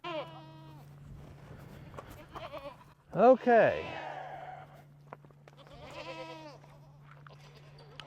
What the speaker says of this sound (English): we will feed these goats out real quick